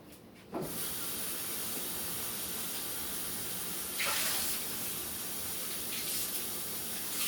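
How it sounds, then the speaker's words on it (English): Tap water runs steadily with a hissing, splashing stream as something is rinsed under it in a kitchen, starting abruptly and continuing with brief surges of heavier spray. "I'm going to take it over here and give it a rinse"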